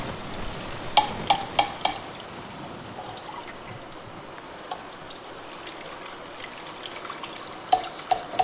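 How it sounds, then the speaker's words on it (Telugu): Tamarind extract goes into a pan of tender okra curry, a soft watery sizzle and bubbling with a few sharp clinks near the start and end, close and moderately loud, with no talking. "ఇప్పుడు చింతపండు పులుసు ఇలా తీసి పెట్టుకున్నాం కదా, వీటిని ఇందులో వేసేద్దాం."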